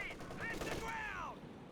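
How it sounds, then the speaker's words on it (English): A German MG34 machine gun fires in a Company of Heroes battle, a faint, brief rattle of rapid shots mixed with crackling combat noise and a short voice. "MG34 firing away"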